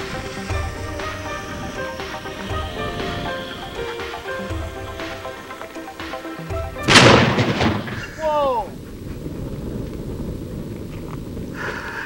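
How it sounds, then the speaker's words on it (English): Black powder cannon fired on an outdoor range, launching a 3D-printed projectile: one loud sharp boom partway through, with a whooshing tail after it and outdoor background noise around it. "gonna put it on the front of this cannon and shoot it"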